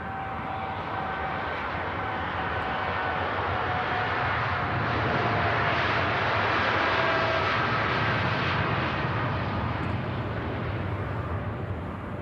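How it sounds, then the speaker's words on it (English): A TUI Boeing Dreamliner jet departs Manchester Airport on a frosty day, its engines producing a loud, sustained roar that swells gradually and holds for the whole stretch. "Finally departing the TUI Dreamliner."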